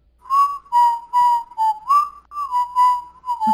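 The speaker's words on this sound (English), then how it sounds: "In my head canon, Neri is whistling that tune" Someone whistles a simple tune, clear and close, in a string of sustained notes with short breaths between phrases and nothing else heard behind it.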